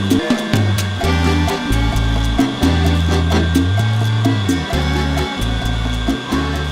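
A meat grinder runs a mix of veal, pork and beef back through for a second, finer pass, giving a loud, steady, close motor drone whose pitch shifts slightly as the meat feeds through.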